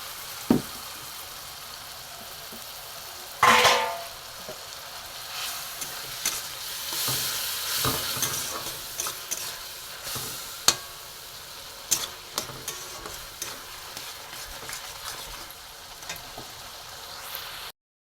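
Spice paste sizzles and hisses in a pan after a little water is added, with a sharp spurt near the start followed by steady frying and scattered stirring scrapes of a spoon, close up and without talk.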